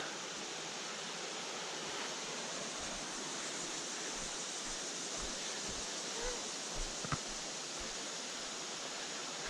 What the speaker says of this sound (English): Oh, Johns River's running wild.